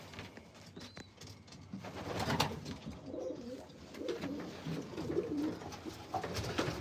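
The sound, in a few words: pigeons cooing in a breeder loft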